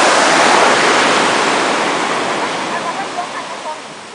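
Ocean surf rolls onto a beach in Costa Rica, a steady broad wash of breaking waves that stays loud throughout and eases slightly toward the end.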